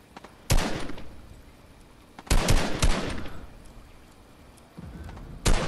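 Gunfire in Fortnite, loud close bursts of rapid shots in three clusters separated by quieter gaps, each burst cracking sharply then trailing off.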